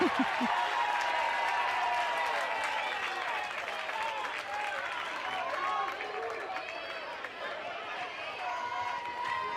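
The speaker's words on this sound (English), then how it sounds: "That draws a Bronx cheer." A softball stadium crowd at an LSU vs Missouri college game, a dense sustained wash of voices, jeering and clapping that holds loud and steady throughout, with a commentator talking over it.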